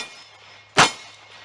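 A single revolver shot from .38 Special low-recoil hollow point ammunition: one sharp, sudden burst in the middle of otherwise quiet surroundings, with no talking.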